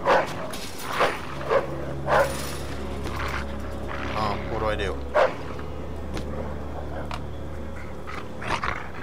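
A dog in the video game Mafia 2 barks in sharp bursts and growls low between them, close and loud at first, then quieter, with a voice speaking briefly over it.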